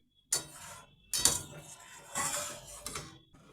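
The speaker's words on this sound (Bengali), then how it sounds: "কড়ার সাইডে যে মালাইগুলো জমছে সেগুলোও ভালো করে চেঁচে দুধের মধ্যে দিয়ে দিতে হবে" A utensil scrapes milk cream from the sides of a wok of simmering milk and sago, making several close metallic scrapes and clinks at irregular intervals, with no talk.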